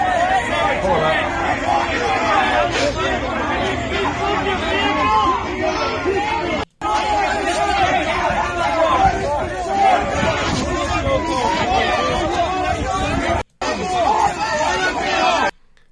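A crowd at a freedom protest during police arrests, a dense steady babble of many voices and shouts at a distance, continuous and fairly loud, with two brief dropouts.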